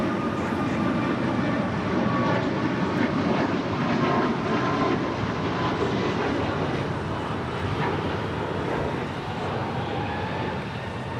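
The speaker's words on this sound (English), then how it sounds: "Clear for takeoff, 25 right, JetBlue 1124" A JetBlue jet takes off from runway 25 right at LAX, its engines a steady, loud, broad roar lasting throughout without a break.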